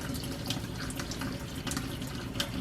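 Kitchen tap runs steadily over homemade butter made from raw milk as it is rinsed of buttermilk, a soft, continuous splashing stream with faint drips and no talking.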